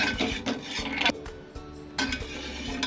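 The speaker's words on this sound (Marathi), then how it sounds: "काजू जास्त भाजून घ्यायचे नाही आपल्याला हलकेसे ब्राऊन करून घ्यायचे" Cashews are roasted in a pan and stirred continuously, giving a close, steady scraping and rustling of nuts and spatula against metal, with brief pauses between strokes.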